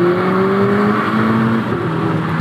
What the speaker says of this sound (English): Do you hear the turbo going?